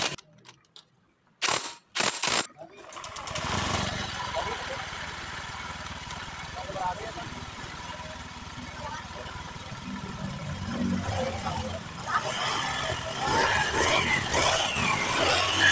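A freshly rebuilt Honda Beat FI ESP scooter engine, assembled from scratch, starts after a few sharp starter bursts and then runs close and steady, idling with a rough buzz that rises slightly toward the end.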